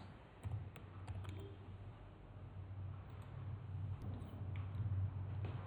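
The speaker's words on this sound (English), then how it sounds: "On the search bar, type maps." Keys clatter in a quick burst on a computer keyboard as a short word is typed into a search bar, close and fairly soft over a steady low hum, with a second short burst of keystrokes following.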